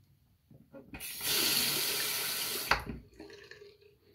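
Running tap water rinses a badger-hair shaving brush, a steady splashing gush lasting about a second and a half before cutting off, followed by faint drips and handling noises.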